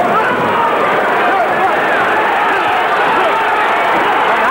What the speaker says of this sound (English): The crowd roaring